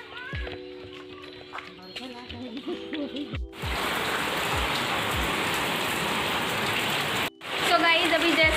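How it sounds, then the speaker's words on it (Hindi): Heavy rain pours down over farm fields in a loud, dense roar that sets in abruptly after someone speaks at the start and continues almost unbroken to the end. "देखो कितनी ज़्यादा बारिश हो रही है"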